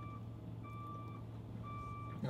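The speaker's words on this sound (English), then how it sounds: "A big truck backing up behind me." Steady reversing beeps from a big truck backing up somewhere behind, a high repeating tone in regular bursts over a constant low engine hum and outdoor background.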